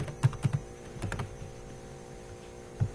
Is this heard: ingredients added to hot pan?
no